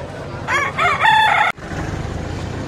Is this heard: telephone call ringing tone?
no